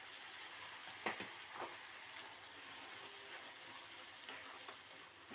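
Tomatoes sizzle in a hot pan with onions, ginger-garlic paste and green chillies, a steady broadband hiss with a few soft clinks of stirring, close and moderately quiet throughout.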